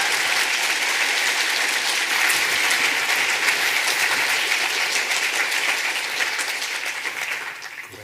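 Sustained audience applause greeting a professor at an OCD talk, dense and steady clapping from a full room that holds strong for several seconds before beginning to fade toward the end.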